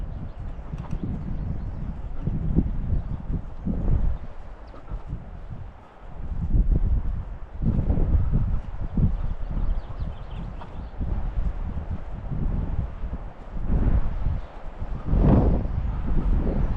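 Wind gusting across an open hillside, a steady broadband rush in the lows with surges and lulls every few seconds, including a brief dip near six seconds, with faint rustling and occasional thumps but no voices.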